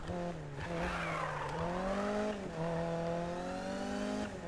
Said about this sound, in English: you can hear the supercharger whine on it as well